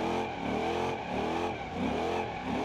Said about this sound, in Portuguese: Fazer um zerinho aqui só pra dar uma aquecida, né?